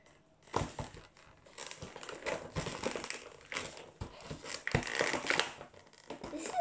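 Stiff plastic toy-doll packaging crinkles and crunches in repeated bursts up close, with tugging and scraping as someone struggles to pull it open.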